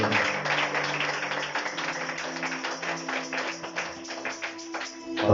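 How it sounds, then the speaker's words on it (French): A church congregation applauds for Jesus in a steady, dense wash of clapping that holds for several seconds, with a sustained musical drone underneath. "Acclame une fois de plus pour Jésus"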